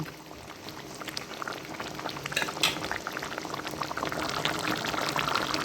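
Pomfret fish curry with fried fish pieces bubbles in a pan, a dense, close crackle of simmering liquid that builds slightly in loudness throughout, with no talking.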